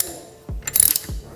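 A hand wrench works a bolt loose on a Harley Softail motorcycle during rear wheel removal, giving a few sharp metallic clicks and ratcheting clacks close by, with a short quiet gap between them.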